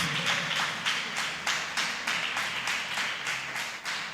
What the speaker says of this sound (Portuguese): Sabe, dê um aplauso para Jesus que ele merece, porque é ele que faz essas coisas.